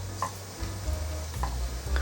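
Sweet potato and carrot pancakes sizzle steadily in hot oil in a pan, with a few short spatula scrapes and taps as they are turned over.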